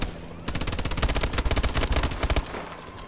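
An automated turret in Call of Duty: Advanced Warfare fires a rapid, sustained burst of shots lasting about two seconds, loud and close, then trails off into a quieter rumble; a faint voice sits beneath it.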